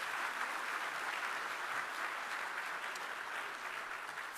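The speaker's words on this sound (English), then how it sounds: "kindly give Dr. Adesina again a warm round of applause" A large audience at the Dakar 2 Summit closing ceremony gives Dr. Adesina a warm round of applause, a dense, steady wash of clapping that holds evenly from start to finish with no voices.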